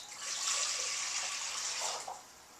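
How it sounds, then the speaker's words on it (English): Water pours steadily from a tap into a saucepan, one quart measured for salting pumpkin seeds before roasting; a continuous bright splashing rush, close and fairly loud, tapering slightly near the end. "take a saucepan or a pot with 1 quart of water"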